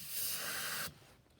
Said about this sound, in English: spray some brake cleaner in there